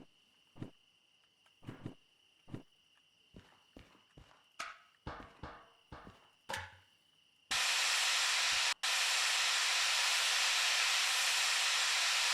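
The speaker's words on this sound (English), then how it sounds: "That really is a Thomas Blue steam train right there." Steam locomotive in the railway simulation game Derail Valley lets out a loud, steady hiss of venting steam that runs for about five seconds, following a series of scattered footsteps and clunks.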